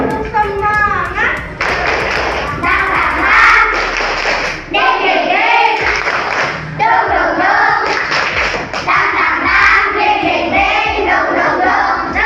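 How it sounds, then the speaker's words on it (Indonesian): A school class claps a rhythmic spirit clap, bursts of hand claps alternating with shouted chanting voices, loud and close throughout. "Kalau gitu kita terakhir tepuk semangat dulu."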